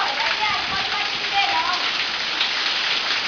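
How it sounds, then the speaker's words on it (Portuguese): Heavy rain falling steadily, a dense continuous patter and hiss on surfaces, close and even throughout. "Agora que a chuva ficou boa."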